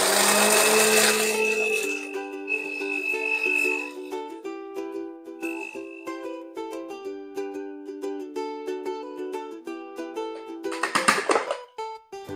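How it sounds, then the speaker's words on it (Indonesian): A blender whirs loudly at high speed grinding dried tiny shrimp into powder, its motor pitch shifting as the contents are ground, with rattling bursts before the motor winds down. "Langsung aja kita blender"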